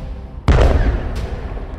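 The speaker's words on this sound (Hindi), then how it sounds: "यहां एक मिसाइल निकलती है और सीधे बॉर्डर पर खड़े इजराइल के मरकावा टैंक को फोड़ देती" A missile explodes against an Israeli Merkava tank at the Hanita border point: a sudden loud blast hits after a short quiet stretch, then a deep rumble rolls on to the end with no voices.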